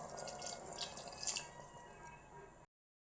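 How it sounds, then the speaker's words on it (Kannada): Water is poured from a glass into rice in a pot for mushroom palav, a soft splashing trickle that fades before the sound cuts off, with no talk. "ಈಗ ಅದೇ ಗ್ಲಾಸಲ್ಲೇ ನಾನು 4 ಗ್ಲಾಸಷ್ಟು ನೀರು ಹಾಕೋಬೇಕು"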